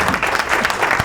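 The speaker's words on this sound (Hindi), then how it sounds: "तालियां हो जाए।" Studio audience applause during a Ramadan game show, a dense, steady burst of clapping that fills the whole moment without a break.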